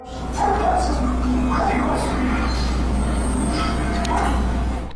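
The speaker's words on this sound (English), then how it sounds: "his dogs are going crazy too, the kind of restless barking when danger is approaching" Dogs bark restlessly in short, repeated bursts against a constant low background rumble, with a voice talking over them.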